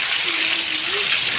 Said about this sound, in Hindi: देखो भर भर के चल रही है नाली